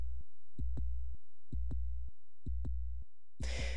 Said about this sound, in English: You could hear my heartbeat, by the way.